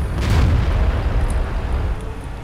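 A tank gun shot hitting in World of Tanks, fired by a TOG at an IS-2 in Berlin: a single heavy, close boom with a deep rumbling tail that fades over two seconds.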